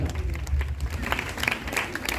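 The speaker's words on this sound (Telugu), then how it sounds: "గట్టిగా చప్పట్లు కొడతాం." A church congregation at a Holy Mass feast claps loudly, with a low voice or hum underneath at first before the clapping grows brighter and busier toward the end.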